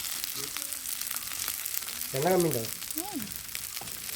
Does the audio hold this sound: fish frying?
yes